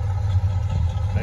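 A 1966 Pontiac Catalina convertible with a single exhaust idles nearby, giving a steady low rumble with an even pulsing throb, moderately loud and heard alone.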